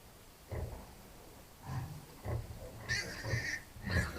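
Young piglets in a pen grunt and squeal in short bursts, with several low grunts followed by higher squeaky squeals near the end, fairly close and moderately loud over a quiet background.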